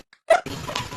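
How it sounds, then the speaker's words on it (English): A big dog gives a short, sharp bark close by, followed by a rougher, noisy vocal burst within the same second. "That's a big ass dog."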